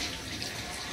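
Water gushes steadily from a household tap in a quick, continuous burst, close and fairly loud, with no talking.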